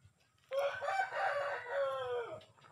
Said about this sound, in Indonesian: ayam ini batu rantai